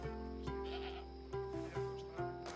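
Goat bleating in the Assassin's Creed Odyssey video game, several short wavering bleats repeating over a steady background hum of game ambience, moderately close.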